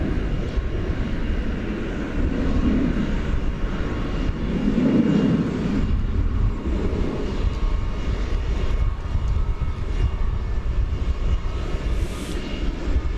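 A Boeing 777 airliner taxiing at DFW Airport gives a sustained, moderately loud engine rumble and whine that swells and eases gently over several seconds.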